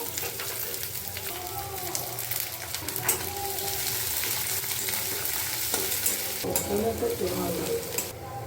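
Garlic and onions fry in a pan, with a dense close sizzle and repeated scraping stirs; tonal clatter and background noise run faintly underneath.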